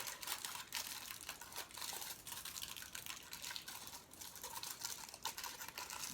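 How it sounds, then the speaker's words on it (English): Aluminium foil is folded and pressed down around a leaf for a craft project, making soft, quiet crinkling and crackling with irregular small crunches throughout. "The nice thing about foil is it kind of sticks to itself when you smash it down."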